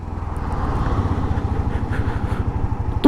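A 2025 Hero Xtreme 125R motorcycle slowing from about 70 on its 130 mm rear drum brake, with a close, rhythmic single-cylinder engine thrum that pulses steadily and winds down, ending with a brief sharp sound.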